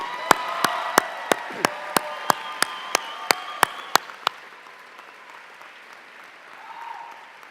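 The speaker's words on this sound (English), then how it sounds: "Let's give all of our graduates one more round of applause." Applause for graduates at a residential OT and PA commencement ceremony: a steady crowd of clapping overlaid by a string of sharp, evenly spaced loud claps for about four seconds, then a softer, thinning patter that fades out.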